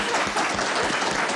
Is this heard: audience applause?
yes